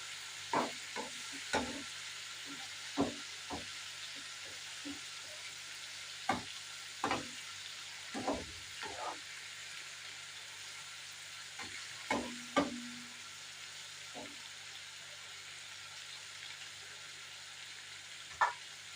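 Albanian-style liver stirred and fried in a pan, with a soft steady sizzle under a string of irregular, sharp spatula clacks against the metal that come in short bursts with pauses between them, no talking.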